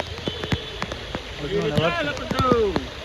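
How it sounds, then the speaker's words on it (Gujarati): Rain falls beside a stream at Bhushi Dam in Lonavala, a steady wet hiss running under voices and scattered close clicks and taps. "જો વરસાદે ચાલુ થઈ ગયો છે ને આ ઝરણું છે."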